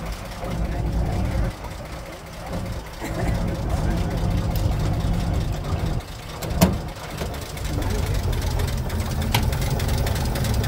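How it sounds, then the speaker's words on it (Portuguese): A 1946 crank-start truck engine runs with its hood open, a low, rough idle that chugs steadily and dips at moments as if nearly stalling, with a few sharp knocks and clanks and people talking nearby. "Vou abrir o motor aqui pra gente dar uma olhada, o bichão funcionando."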